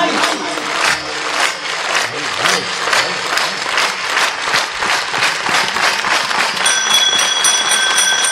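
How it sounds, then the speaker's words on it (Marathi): A crowd claps in unison to the beat during a bhajan at a kirtan gathering, a dense continuous patter of hand claps over singing voices. "एका तालात भाषणाच्या टाळ्या नाही, भाजनाच्या."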